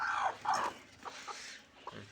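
Soft, low clucks from a broody desi hen sitting on eggs come in a few short bursts, faint and close, with quiet pauses between them.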